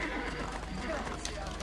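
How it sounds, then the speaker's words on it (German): A horse neighs in Assassin's Creed: Brotherhood as it is summoned in-game, a short whinny with faint clip-clop over a steady game soundscape. "Pferd rufen."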